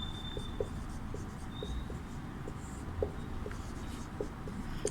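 An answer being written on the board in a Hindi class, a series of short scratchy strokes tapping out at an even pace over a steady room hiss.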